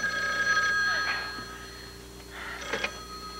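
A telephone rings indoors in two short trilling bursts separated by a pause, moderately loud against a quiet room.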